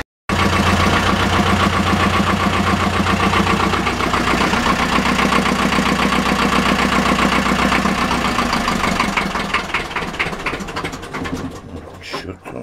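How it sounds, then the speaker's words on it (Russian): A boat's diesel engine cranks and runs with a loud, steady rhythmic chugging, then sputters and fades toward the end. "держим ключ включенным, включенные свечи, пока двигатель не начнет устойчиво работать"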